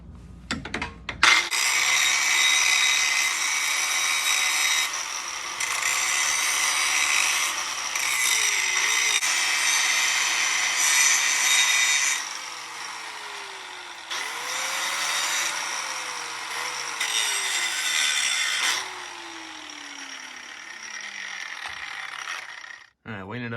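Power tool grinding a groove into metal near a truck's rear shock: loud harsh high-pitched cutting in several long bursts, each ending with the motor winding down, broken by brief pauses.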